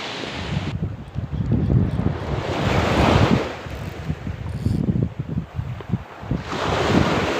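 Strong wind blows steadily across a seashore during squid fishing from the coast, with rough surf and gusty rushing noise buffeting the microphone, swelling and easing throughout with no talking.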